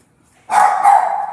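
A single dog gives a sharp, close bark that is loud and clear, following a near-silent moment, with no talk over it.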